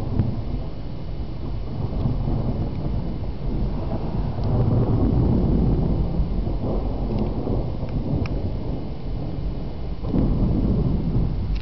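Thunderstorm rolling in before the Red Bull Air Race, with a continuous deep rumble of thunder blended with steady rain and wind noise, fairly loud and unbroken throughout, with no one talking.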